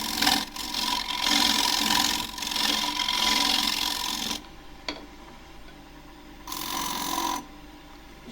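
A turning tool cuts a warped, rough-turned box elder plate on a lathe with a loud, steady scraping whir. It breaks off partway through, leaving a low motor hum, then a shorter cut follows near the end.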